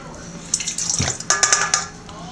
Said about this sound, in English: we take our half cup of water and we put it in the bowl of my mixer here